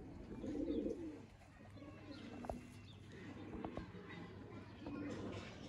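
Sialkoti quail pigeons, a champion bloodline, coo softly in repeated low throbbing phrases, with a faint chirp here and there, all quiet and close with no voices.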